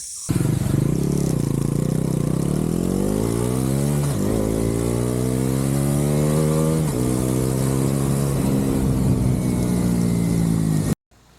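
A Bajaj Pulsar NS400Z 400cc motorcycle engine revs loudly and close, climbing in pitch through repeated throttle blips with a brief dip around the middle, then cutting off abruptly near the end.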